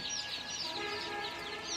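Many newly hatched native chicken chicks peep and chirp continuously in a dense, high-pitched chorus, close by, with no talking.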